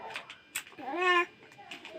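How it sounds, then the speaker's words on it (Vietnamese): A single drawn-out cat meow rises and falls near the middle, close and clear, with brief soft sounds before and after it. "Con mèo."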